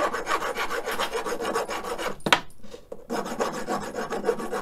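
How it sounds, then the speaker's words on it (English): A hand file rasps back and forth across metal stock to deburr it before machining, giving rhythmic, close scraping strokes with a brief clank and pause partway through before the filing resumes. "the next thing would be to square up to deburr the stock before putting it in there"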